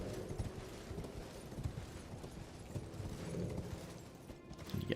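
Horse hooves galloping in the video game Elden Ring, a steady clip-clop rhythm running throughout with a busy game soundscape layered over it.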